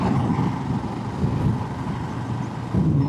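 Motorcycle engine recorded through a helmet microphone on a test ride, a loud, steady low drone and rumble with some wind noise, continuous throughout with no talking.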